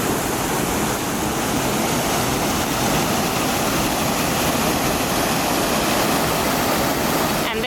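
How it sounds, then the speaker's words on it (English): Water rushing underground into a culvert at Lock 17 of the second Welland Canal, a loud, dense, unbroken roar of flowing water heard up close throughout. "Just stepped over a fence to get a closer view of the water flowing in Lock 17 underground."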